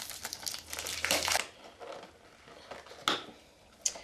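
Plastic packaging of a foaming gel face cleanser crinkles and tears close up as it is unwrapped, with a loud burst early on followed by softer rustling and a couple of sharp crackles.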